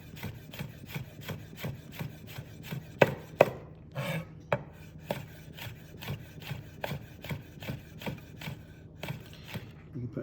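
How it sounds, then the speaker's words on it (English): A knife finely slices red chilli on a wooden board in a home kitchen, producing a quick, even run of crisp chopping taps close up, with no talk over them. "Bit of red chilli, again finely sliced."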